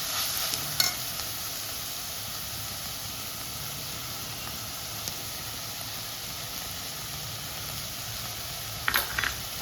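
Paneer bhurji with spices being stirred and fried in a pan, a steady close sizzle under continuous scraping with a few sharp clinks of the spatula near the start and end.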